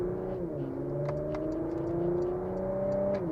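Porsche Macan GTS engine in Sport Plus mode, a steady close mid-pitched drone that holds high revs and climbs slightly, with a brief dip and recovery, no talking.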